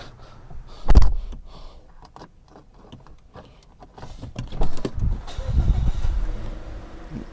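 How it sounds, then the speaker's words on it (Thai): A 2018 Mazda 2 Skyactiv 1.3 engine idles and revs in short bursts, with a sharp thump early on and rumbling low revving toward the end, no talking. "เสียงเครื่องไพเราะมากนะครับ"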